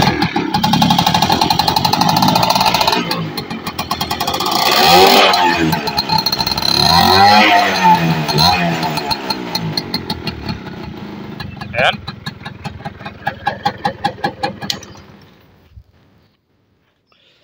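A Yamaha V80 two-stroke motorcycle engine runs close by, with a steady buzzing idle, a couple of revs that rise and fall, then sharp popping bursts before it shuts off into silence; a voice speaks briefly over it.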